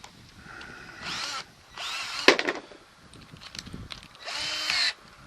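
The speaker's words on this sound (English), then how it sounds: "gonna drill a hole there." A power drill bores a hole during a patio furniture storage build, whirring in several short bursts of about half a second to a second each, with a clatter between bursts. It is loud and close, with no voices.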